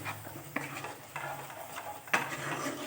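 Poppy seed paste is stirred into pabda fish curry in a pan, with distinct scraping spatula strokes roughly every half second over a soft, steady sizzle, close and without speech.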